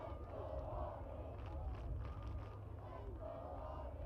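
A large crowd roars and shouts continuously in the distance, a dense wash of voices with scattered cheers rising and falling.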